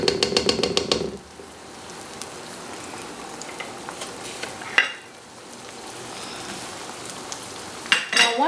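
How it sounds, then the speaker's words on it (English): Onions, ginger and garlic frying in hot oil, a loud, continuous sizzle, with clattering pan and utensil knocks near the start and again at the end. "just gonna fry the onions and the ginger and garlic just for about 30 seconds or so"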